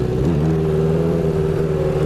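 The engine of a rebuilt 1980 Honda CB900C motorcycle revs hard and steady up close as the rider tries to pull a wheelie, a loud continuous roar lasting about two seconds.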